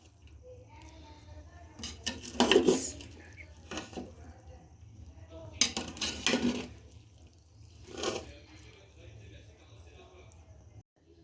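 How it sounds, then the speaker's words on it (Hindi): A spoon mixes mutton makhni biryani in a pot, producing three separate bursts of scraping and soft squelching against the metal, close by, over a faint low hum in an otherwise quiet kitchen. "अब इस बिरयानी को मिक्स कर लेते हैं"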